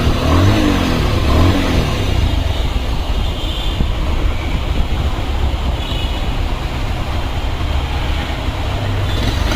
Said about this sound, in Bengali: গাড়ি ইঞ্জিনের সাউন্ড দেবে